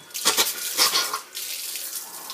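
Water runs steadily over a soot-blackened surface left after a fire, washing the black residue off; a continuous splashing flow with a few louder surges near the start, close and alone.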